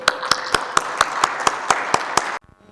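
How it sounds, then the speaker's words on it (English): Conference audience applause in a main session hall of the VLSI Design conference, a steady wash of clapping punctuated by sharp, regularly spaced claps that stops abruptly near the end. "So a big round of applause for Amar."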